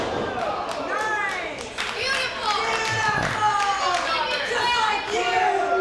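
A women's wrestling event crowd reacts to Allysin Kay, a steady wash of cheers, chatter and scattered clapping running underneath continuous ringside commentary.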